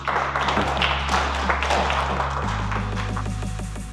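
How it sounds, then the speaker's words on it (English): Applause from an audience at a charity unveiling of a restored 1992 Ford F250, steady clapping throughout over a low continuous hum, fairly close and even in loudness. "I want to say thank you and give them a round of applause."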